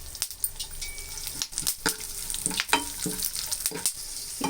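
Dal fries in oil in a pan for motichoor ladoo, with a soft sizzle under repeated irregular scraping strokes of a spoon stirring it, close up.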